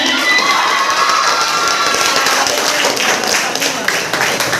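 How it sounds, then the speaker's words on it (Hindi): A crowd of children and adults claps and cheers at a school prize and medal ceremony during a block-level Bihar education festival, loud sustained applause with shouting voices filling the hall. "ताली बजाने में कंजूसी नहीं की"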